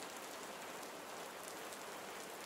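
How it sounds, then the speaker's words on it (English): Steady rain falls outside beyond a stone archway, a dense, even patter of drops on surfaces holding constant and close throughout, with no voices. "indicating the rain outside"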